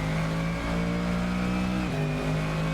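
Engine of a front-engined, rear-wheel-drive Mercedes GT3 race car in Assetto Corsa, holding a loud, steady tone up close before a quick dip and a climb again as it shifts, with no voices.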